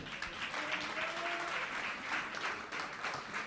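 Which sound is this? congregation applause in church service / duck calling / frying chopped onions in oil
congregation applause in church service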